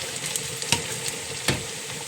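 Tempering sizzles in ghee in a pan while chicken sukka is cooked, a close, continuous frying hiss punctuated by a couple of sharp crackles or stirring knocks.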